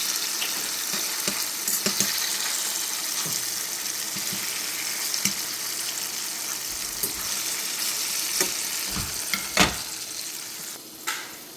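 Chickpea tofu sizzles steadily in a pan while a utensil pushes it around, giving a constant frying hiss broken by scattered scrapes and taps, close and without talk.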